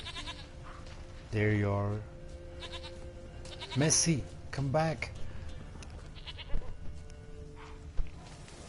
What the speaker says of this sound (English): I can hear the goat somewhere.